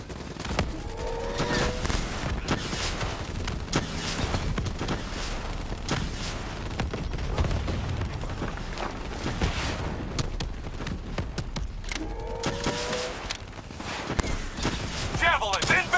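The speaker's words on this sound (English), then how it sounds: "Javelin missiles incoming!" Dense gunfire and explosive impacts from incoming Javelin missiles rumble through a Call of Duty Black Ops 3 campaign battle, with continuous bursts, booms and overlapping voices shouting.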